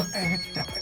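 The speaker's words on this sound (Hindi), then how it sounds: "कौन फोन कर रहा है बे?" Phone ringtone in a Hindi-dubbed film scene, a short melodic electronic tone heard briefly at close range with a faint voice beneath.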